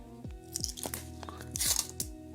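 Protective film peeling off small plastic panes for a car dealership diorama, with close, faint crinkly crackles and a few sharp plasticky tearing rasps in quick succession.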